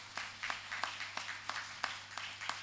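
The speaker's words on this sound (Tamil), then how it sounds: "நல்லா கைத்தட்டும் பார்ப்போம்." Sparse, faint clapping from an audience at a Christmas celebration gathering, a few scattered hand claps in loose rhythm at a distance over a low steady hum.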